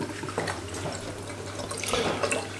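Water running and splashing steadily as it rinses through plastic beer siphon tubing, with faint drips and trickles over a low background hum, close by and continuous.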